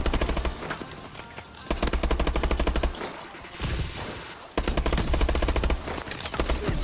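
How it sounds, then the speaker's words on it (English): Call of Duty gunfight with loud, rapid automatic gunfire in sustained bursts, broken by short pauses and overlapping shots, close and dominant throughout. "Oh no, I just lost that gunfight right there"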